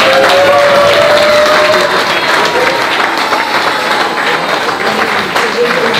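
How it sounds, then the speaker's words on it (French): Wedding guests clap in a dense, steady burst of applause filling the room, loud and close, with a voice talking over it at the start. "Applaudissez pour nous."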